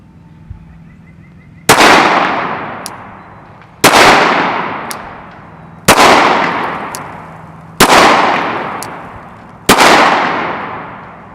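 Five loud pistol shots fired one-handed at an outdoor range, evenly spaced about two seconds apart, each a sharp crack with a long ringing decay and a faint metallic ping after, no talking.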